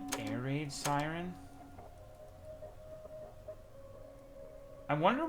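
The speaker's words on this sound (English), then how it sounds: "That sounds like an air raid siren." A wavering, mournful air-raid siren sounds in a horror video game, a faint drawn-out tone sustained across the middle stretch, with a voice talking loudly at the start and end.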